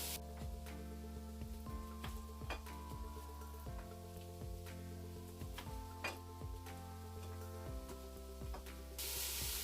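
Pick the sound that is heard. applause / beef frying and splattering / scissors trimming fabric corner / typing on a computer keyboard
beef frying and splattering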